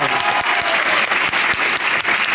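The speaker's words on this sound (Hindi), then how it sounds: "मत बजाओ ताली यार" Steady, dense applause from a seated audience at a leadership program seminar, many hands clapping loudly and continuously for the whole stretch with no talk over it.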